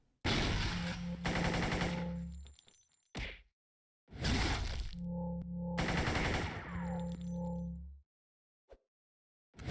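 Automatic gunfire in the video game City of Heroes rattles out in loud, dense bursts of several seconds each, separated by brief silences, with metallic clinks and a short whoosh between volleys.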